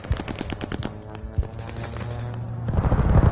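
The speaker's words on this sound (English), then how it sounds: "Allied airstrike coming in hot!" Allied airstrike in a video game: rapid staccato gunfire rattling at first, then a sustained droning tone and building rumble of blasts toward the end, loud and close with no talk.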